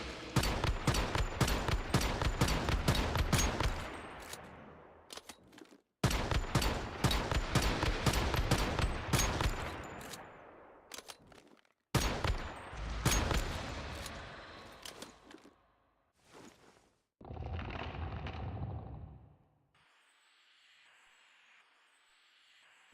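Gunfire in the video game Once Human comes in three long, loud bursts of rapid shots separated by short gaps, followed by a few scattered shots and a softer final stretch.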